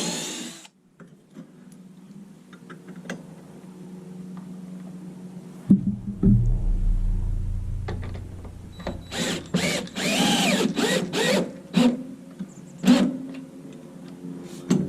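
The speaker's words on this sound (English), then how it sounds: "We got a drill bit for pre-drilling" A power drill with a bit pre-drilling holes for lag bolts in a mounting post for a solar street flood light, a steady whir building into louder, rising bursts of drilling near the end, with no talk.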